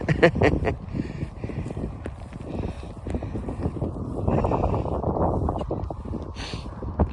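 Gusty wind buffets the microphone at an old graveyard, a low continuous rumble that swells and eases over several seconds, with faint patters that may be hailstones.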